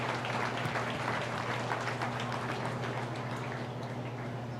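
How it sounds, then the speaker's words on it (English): A crowd at a junior swine show at the 2024 Buffalo County Fair applauds in a steady, dense wash of clapping that holds throughout, with a faint low hum underneath. "let's give a round of applause to all these people that help these young exhibitors."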